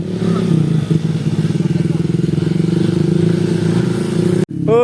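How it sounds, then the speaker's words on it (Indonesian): Motorcycle engine running steadily up close on a slick red-dirt road in the rainy season, a loud continuous drone with light clatter and thumps, cutting off abruptly near the end. "Ini motor saya nih"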